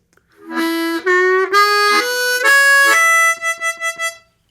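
Bright harmonica notes trace a major pentatonic run in the middle octave, held tones rising, then ending in a few quick separate puffs; solo and close-up.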